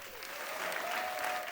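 A studio audience at a stand-up comedy show claps for comedian Indra, a short, even burst of applause.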